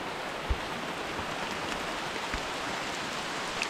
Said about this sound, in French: On fait la petite rando sous la pluie